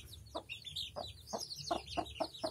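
A mother hen among country chickens clucks in a steady series of about seven short, close clucks, with high chick peeps scattered above.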